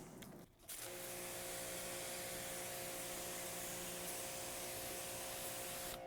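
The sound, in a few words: rinsing a car with water after shampoo wash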